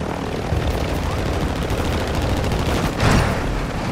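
Loud, dense roar of helicopter rotors and engine with rattling gunfire mixed in, a sustained wall of noise with a brief swell near the end, in the video game Call of Duty: Warzone 2.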